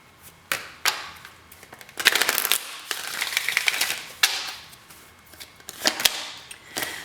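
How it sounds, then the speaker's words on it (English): A deck of tarot cards is shuffled by hand, giving scattered sharp flicks and short riffling bursts, close and irregular with no talking. "One more shuffle."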